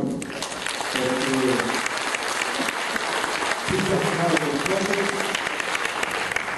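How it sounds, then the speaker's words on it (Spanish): An assembly audience applauds the governor with steady, dense clapping, while voices speak and call out over the applause at moments. "Yo creo que es digno de que le metemos un aplauso, ¿no?"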